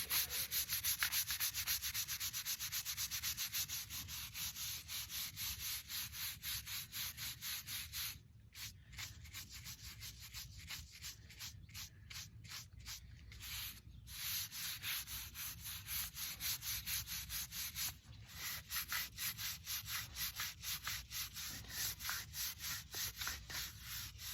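Steady rapid back-and-forth rubbing and sanding across a headstone's surface, a loud continuous scraping rasp with brief pauses partway through, close up and with no talk.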